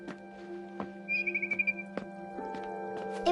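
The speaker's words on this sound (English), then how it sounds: "Then I heard chirping outside my window" A barn swallow chirping outside a window in What Remains of Edith Finch, a short quick run of high twittering notes over a soft sustained musical drone with faint clicks.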